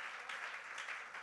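A church congregation applauds the Lord in a brief, steady wash of clapping, moderately distant and continuous.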